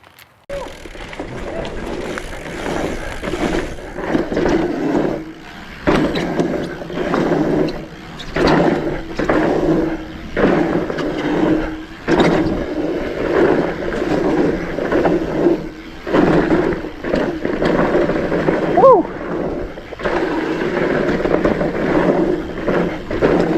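A Salsa Beargrease fat bike rolls down a hilly dirt trail, its wide tires giving a continuous rushing rumble with bumps and surges, loud and close, with wind buffeting throughout.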